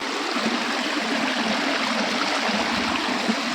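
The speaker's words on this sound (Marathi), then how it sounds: "खळखळ वाहणारे झरे पाहिले" A rocky river at Dugve in Ratnagiri, Konkan, sends a constant rushing, gurgling wash of water over stones, steady and close with no voices.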